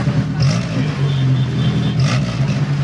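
A retro ZAZ Zaporozhets car engine at a vintage vehicle festival in Lviv revs loudly and close by, its low, throaty drone swelling briefly in two bursts.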